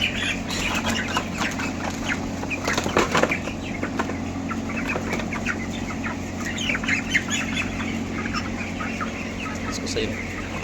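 A flock of five broiler chickens being weighed on a scale clucks and squawks continuously at close range, overlapping calls with a steady hum underneath.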